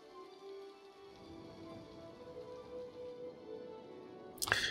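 Rain weather in the city-building game Cities: Skylines, a steady hiss of rain falling on surfaces throughout with faint tonal game ambience beneath, swelling into a brief louder burst at the end.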